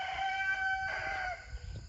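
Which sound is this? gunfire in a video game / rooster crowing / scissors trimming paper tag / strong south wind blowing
rooster crowing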